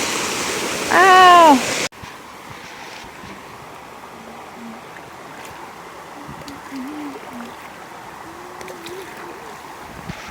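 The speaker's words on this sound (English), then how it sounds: "getting water at the Bowley Brook" Bowley Brook on the Appalachian Trail flows in a steady, moderately loud rush beneath a brief loud exclamation at the start, with a few faint tonal sounds later.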